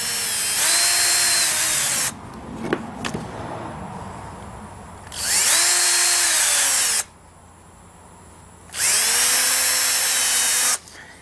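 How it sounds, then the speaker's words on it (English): A power drill bores through the centres of wooden pieces for a homemade TV antenna in three loud, close bursts of about two seconds each, with quieter handling clatter and pauses in between. "And all I'm doing is just drilling the center."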